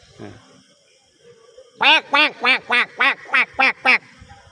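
A man imitates a duck with eight evenly spaced, nasal quacks in a quick rhythmic run, loud and close, after a brief faint sound at the start.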